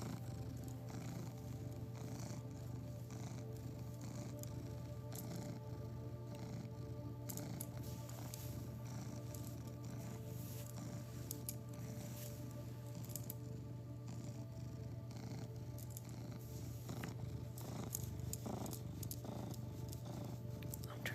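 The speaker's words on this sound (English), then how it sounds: "You'll hear my cat purring." A steady, low rumbling purr from a cat, continuous and close, running without a break the whole time.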